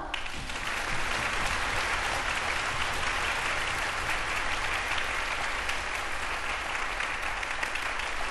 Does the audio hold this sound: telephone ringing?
no